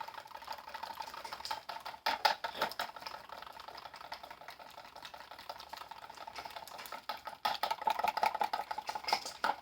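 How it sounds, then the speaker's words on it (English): A small whisk stirs melted melt-and-pour soap mixed with butterfly pea flower, giving a steady, close, rapid clicking and scraping patter against the container that runs throughout with brief louder bursts and no talk. "So again, I'm going to go in with my little whisk."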